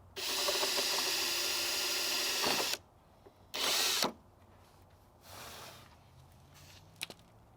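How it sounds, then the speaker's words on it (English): Power drill drilling out holes in a cheap fiberglass or resin wide body kit on a car, with a long loud whirring burst, a short second burst and a softer third, plus faint clicks. "I'm just going to drill out all the holes, and then we'll get that thing in"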